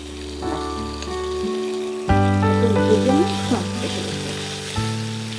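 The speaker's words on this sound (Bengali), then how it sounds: "এবারে এটাকে হালকা করে ভাজতে হবে" Onion and garlic paste fries lightly in a pan with a soft sizzle, heard beneath steady tonal background music that shifts partway through.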